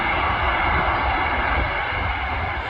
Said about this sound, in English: that is a Ryanair, not a Jet 2.